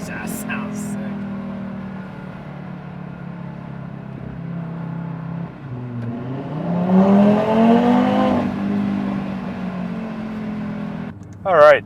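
Audi fitted with an MBRP cat-back exhaust, cruising at about 2,500 RPM in dynamic mode, gives a steady low exhaust drone that swells into a louder rising rev midway, with talk heard over the engine.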